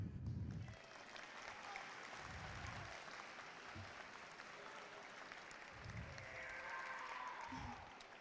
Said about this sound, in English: So one more big applause for them.